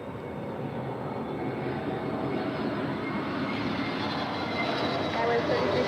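American Airlines A321neo airliner landing at LAX, arriving from Las Vegas: a continuous jet roar that swells gradually as it comes nearer, loud and steady throughout.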